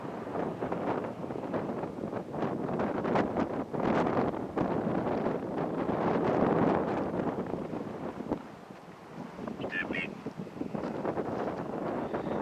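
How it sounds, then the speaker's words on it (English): Strong wind buffeting the microphone at the Old Oregon Trail Cemetery in Huntington, Oregon, a loud continuous roar with repeated gusts and crackling bursts for over twelve seconds, easing briefly near the end. "Man, it's so windy."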